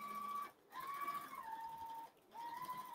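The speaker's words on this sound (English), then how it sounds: "And quilting our next section." A longarm quilting machine on a Cutie frame, running on automation, stitches fabric with a steady whirring motor whine. The pitch shifts slightly and two brief pauses interrupt it.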